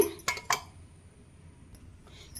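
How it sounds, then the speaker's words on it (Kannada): A metal spoon stirring turmeric, asafoetida and raw oil in a small bowl, two sharp clinks close together at the start, then quiet scraping with one faint tap later. "ಇದನ್ನೆಲ್ಲ ಈಗ ನಾನು ಸ್ಪೂನಿಂದ ಮಿಕ್ಸ್ ಮಾಡ್ಕೊಂಬಿಡ್ತೀನಿ"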